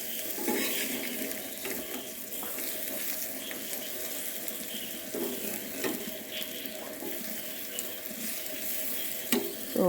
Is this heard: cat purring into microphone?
no